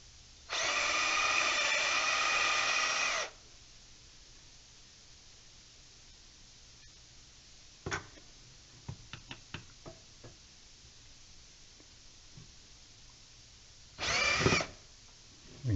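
Power drill running in reverse to back out square-headed screws from wood, a steady whine of about three seconds, then a few light knocks and clicks, and a second short whir near the end.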